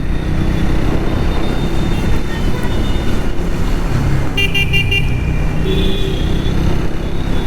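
A Triumph Speed 400 motorcycle being ridden produces a steady, loud engine and road roar with wind rush throughout. A brief horn-like toot cuts in partway through, and no one speaks.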